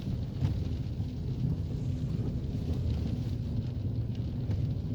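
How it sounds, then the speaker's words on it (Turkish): Steady light rain noise with a low rumbling wash throughout, constant and fairly close, no voices present. "Evet gene hafif yağmur başladı."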